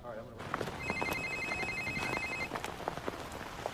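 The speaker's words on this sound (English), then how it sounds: "It's gonna ring in a few seconds." A telephone rings in a movie scene with a steady electronic ringing tone lasting about a second and a half, set against a busy, hissy room background.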